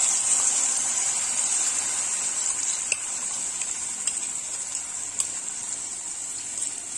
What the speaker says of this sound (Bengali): এটা একদম কাঁচা অয়েস্টার, মানে কাঁচা সমস্ত কিছু রয়েছে, তো এটাকে আমি একটু ফ্রাই করে নেব।